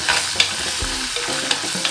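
A soaked paste of chili powder and turmeric goes into a hot pan of homestyle fish curry made with kudampuli (Malabar tamarind), giving a close, steady sizzle with stirring scrapes and a few sharp clinks, no voices.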